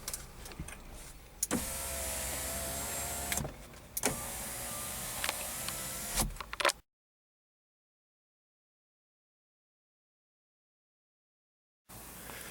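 Power window motor in a 2005 Audi A4 Cabrio whirring in two runs of a few seconds each, close and steady, with clicks at the starts and stops and a long stretch of silence afterward.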